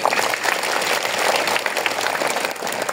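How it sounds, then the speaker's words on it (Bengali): Students at a school assembly applauding together, a dense, loud, continuous burst of many hands clapping that holds steady for the whole stretch. "তোমরা নিজেদের জন্য নিজের একটা হাততালি দিবে"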